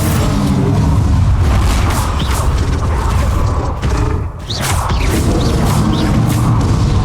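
Confringo, the explosive spell in Hogwarts Legacy, goes off as a loud, steady run of booming blasts and crunching impacts, with a brief dip in the middle before the roar picks up again.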